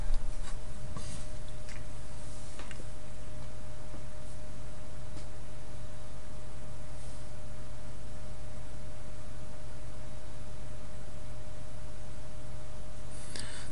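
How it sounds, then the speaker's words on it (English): A pen or pencil scratches across paper while an algebra multiplication problem is worked out, producing faint, steady strokes under a constant background hiss with no talking. "So write this one down and do it."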